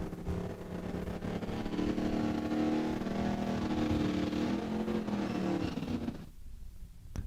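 A drag racing car roars through an eighth-mile pass at Saskatchewan International Raceway, a loud sustained engine howl holding steady for about six seconds before cutting off abruptly into near silence.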